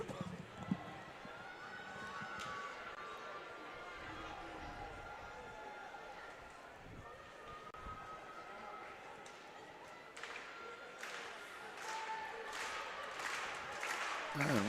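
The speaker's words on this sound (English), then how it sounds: "the rhythmic clapping as they anticipate Owen's next jump" Spectators at a high school track meet keep up rhythmic clapping in anticipation of a jump, steady claps rising louder toward the end amid general crowd murmur.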